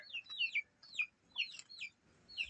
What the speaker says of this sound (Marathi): इकडं वरती बसल्या कोंबड्या बा